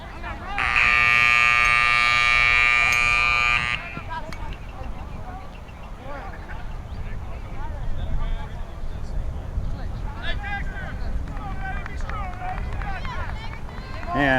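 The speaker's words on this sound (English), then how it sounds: "and that's the buzzer. Start of the game." A loud electronic game buzzer sounds for about three seconds at the start of a high school lacrosse game, Liberty Hill versus Anderson, followed by crowd noise, chatter and players moving around on the field.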